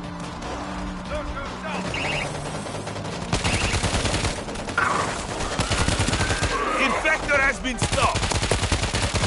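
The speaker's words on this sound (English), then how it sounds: "This auto turret is ready." An auto turret in the video game World War Z, on a Rome level, fires continuous rapid bursts of automatic gunfire amid game noise, with voices talking over the shooting.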